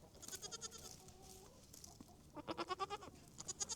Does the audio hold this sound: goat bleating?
yes